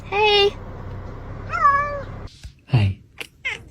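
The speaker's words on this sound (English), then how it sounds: "This is my cat, Mimi." A pet cat meows twice, close and distinct, the second call rising and falling, followed by brief soft speech and small sounds.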